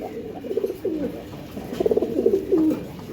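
Giribaj pigeons coo in soft repeated rolling calls, a few phrases close by against a quiet background hum.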